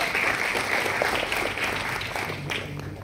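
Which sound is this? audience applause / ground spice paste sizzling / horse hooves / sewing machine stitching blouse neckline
audience applause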